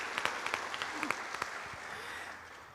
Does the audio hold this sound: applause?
yes